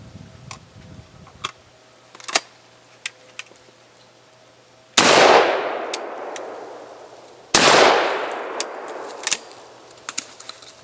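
Two loud shotgun blasts from a Stoeger STF 3000, fired at steel targets on an outdoor range. Each blast rings and decays over a couple of seconds, with faint ticks and clinks of handling between them.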